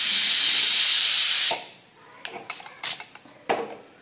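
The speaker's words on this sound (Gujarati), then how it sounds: "કુકરમાં સીટી પણ થવા માંડી" A pressure cooker cooking khichdi lets out a loud, sharp hiss of escaping steam for about a second and a half, then it stops and a few light clinks of utensils follow nearby.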